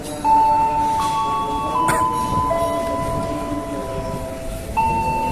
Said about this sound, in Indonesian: ini orang sudah mulai siap karena keretanya segera tiba di peron ini ya, peron 8.